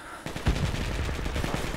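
Rapid, dense enemy gunfire in a first-person shooter video game rattles loud and close with no breaks, as a fast run of overlapping shots over a noisy battlefield backdrop.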